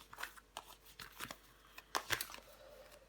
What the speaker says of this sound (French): Je vais recouvrir des cartes.